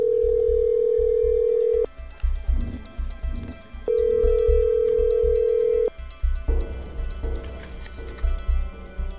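Telephone ringback tone while placing a call to a welfare foundation, long steady beeps repeating in a regular rhythm over a low rumbling background with faint clatter, moderately loud and close.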